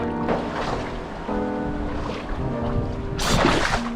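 Ocean waves wash against a Rhode Island shoreline in a continuous, fairly loud rushing surge that swells again toward the end, heard up close with no voices.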